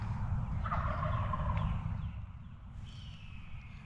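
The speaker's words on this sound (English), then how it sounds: "could clearly hear the gobblers sounding off" Wild turkey gobblers sound off from a roost in the Michigan woods, a rattling gobble rising at a moderate distance over steady low wind rumble, followed by fainter calls.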